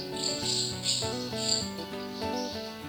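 Small birds trapped indoors near an open window chirp in quick, overlapping high tweets and short calls, close and fairly clear, with no talking.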